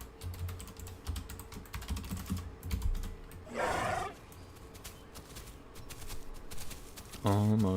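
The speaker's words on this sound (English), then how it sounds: "Let me try typing." Rapid clicking of computer keys continues throughout, with brief bursts of game sounds and a voice speaking near the end.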